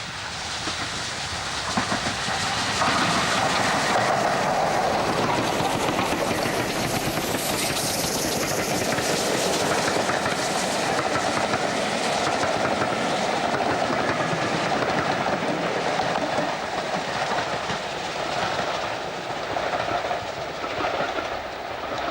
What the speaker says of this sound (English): our 2 GWR locomotives are seen double heading southwards.